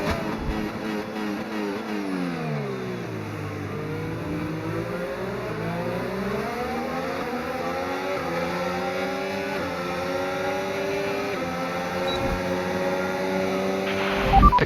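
F1 car engine in the F1 25 racing game at Miami, a loud continuous high-revving whine that climbs and shifts through gears with rising and falling pitch sweeps, steady and close throughout.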